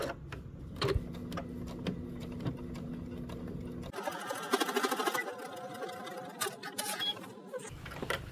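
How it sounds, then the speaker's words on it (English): A domestic sewing machine stitches across the strap of a garment, its motor running in steady mechanical bursts, starting and stopping with a brief pause partway through, close and clear with no talking. "I'm gonna go ahead and stitch the area across the strap."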